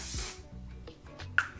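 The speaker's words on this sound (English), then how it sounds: "let's go ahead and use the One Size setting spray" A short, soft burst of spray hisses near the start, followed by faint handling noises and a small click.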